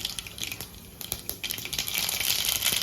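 Mustard seeds spluttering in hot groundnut oil inside a cooker for Marathi tondli bhat, a spiced masale rice: scattered sharp crackles and pops, close by, thickening into a denser, louder frying crackle toward the end.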